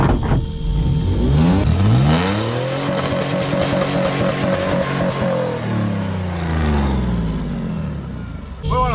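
A turbocharged Chevrolet Silverado engine, worn and near failure, revs hard up to redline and holds there with a loud, sustained roar, its pitch climbing, leveling off, then falling back as the revs drop.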